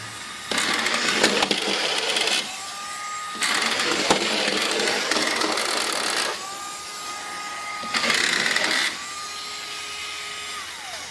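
A Trackmaster Gator toy train fitted with a Power Dash motor runs in loud bursts of whirring, buzzing motor noise, separated by short quieter gaps, close to the listener and without speech.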